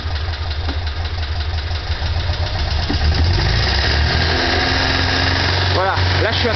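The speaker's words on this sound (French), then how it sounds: "Donc je vais la monter à 3000 tours." Matra Bagheera engine, warmed up, revving to about 3000 rpm and held there with a loud, steady hum and mechanical clatter close by, while someone speaks over it.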